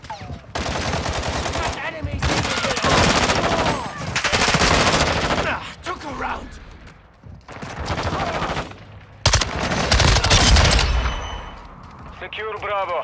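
Submachine gun fire in a Call of Duty match, loud rapid automatic bursts separated by short pauses, with game voices speaking between and over the shooting.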